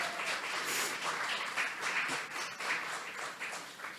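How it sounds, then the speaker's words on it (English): Audience applause at a Black fine art celebration, a steady patter of many hands clapping at moderate distance, rising and falling slightly throughout. "So give that a round of applause."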